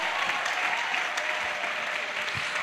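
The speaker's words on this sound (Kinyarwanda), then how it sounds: "Umuntu ubishaka komera Imana amashyi" An audience claps steadily and densely throughout, a continuous wash of applause from a crowd at a gathering, with no pauses or voices rising above it.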